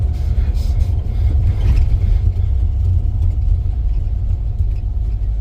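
A car engine idles steadily after a Holley Sniper fuel injection install, a loud, close, low rumble holding an even throb throughout with no talking.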